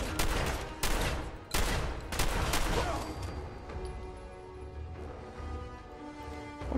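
Gunfire in the Fallout video game: several loud bursts of rapid automatic shots in the first few seconds, then quieter ringing fading out, with no voices.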